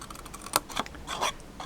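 Scissors snipping paper by hand for a craft caddy, a few quick crisp cuts close by, with short bursts around the middle and near the end, no talking.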